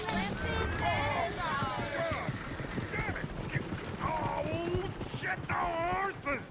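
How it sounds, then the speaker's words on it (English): Horses running in Red Dead Redemption 2, a fast clatter of hooves with several whinnies and neighs, close and busy, with people talking over the commotion. "Shit, the horses!"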